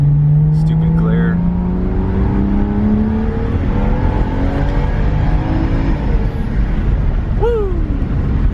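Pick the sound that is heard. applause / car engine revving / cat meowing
car engine revving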